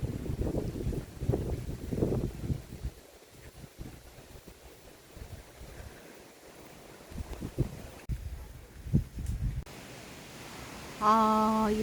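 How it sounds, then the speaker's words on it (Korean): Wind rushes through Sogeumgang valley in a steady, broad roar that swells in gusts against the microphone, with a brief tonal beep near the end. "이 바람 소리가 들리시는지."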